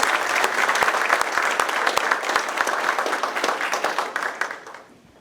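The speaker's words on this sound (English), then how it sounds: "So let's give them a big round of applause." A large audience at a school district event gives hearty applause, loud continuous clapping with distinct individual claps standing out nearby, tapering away over the final second.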